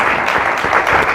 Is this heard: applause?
yes